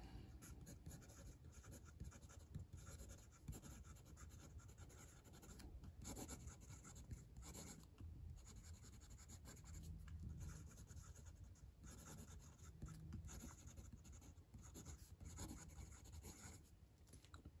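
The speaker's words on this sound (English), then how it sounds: "Let's do some writing." A Wancher Dream fountain pen writing on paper, a faint continuous scratchy nib sound with soft strokes and brief pauses, close and quiet throughout.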